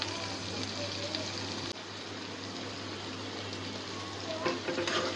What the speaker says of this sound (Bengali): চিংড়ি মাছটা খুব সুন্দর করে ভাজা ভাজা হয়ে গেছে।